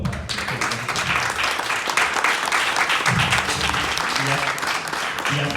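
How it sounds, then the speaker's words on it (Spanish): A room claps warmly for a former president at a book launch, sustained applause throughout with voices faintly mixed underneath. "Un aplauso, por favor, para"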